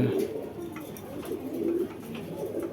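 Caged Pakistani Giribaj pigeons coo in low, repeated murmurs, close by, with overlapping soft calls from several birds and steady background noise.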